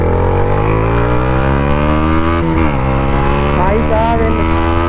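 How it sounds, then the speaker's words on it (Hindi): A Yamaha MT-15 V2 motorcycle engine revs hard in second gear, its loud, close tone climbing steadily in pitch, dipping briefly midway, then rising again. "इसका साउंड जो आ रहा है ना भाई MT-15 का, जबरदस्त आ रहा है"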